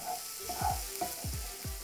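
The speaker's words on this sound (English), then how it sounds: "We can add our spinach." Spinach sizzles and crackles steadily in a hot frying pan, with several soft scraping stirs breaking through the hiss.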